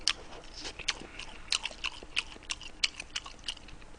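Sundae, Korean blood sausage, soaked in spicy tteokbokki sauce being chewed close to the mic, with repeated wet, soft crunchy bites in an irregular rhythm.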